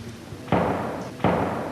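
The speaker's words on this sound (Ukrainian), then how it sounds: "Час від часу, десь неподалік, гримлять вибухи." Two heavy booming thuds of explosions from shelling land about a second apart, each with a rumbling decay, sounding muffled and somewhat distant.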